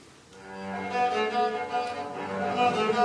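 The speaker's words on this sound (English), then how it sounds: "This cello is made from an oil can and wood that was thrown away in the garbage." A cello made from an oil can and discarded wood plays a slow, sustained melody with a slightly rough, hollow tone, fairly close and steady, with no talking.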